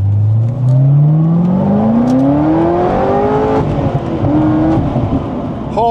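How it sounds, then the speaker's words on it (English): A Corvette C6 ZR1 accelerates hard in first gear, its engine note climbing in a loud, close rising roar, easing briefly at about 3.5 seconds, then rising again, with no talking. "All right, we'll do a little first gear hit."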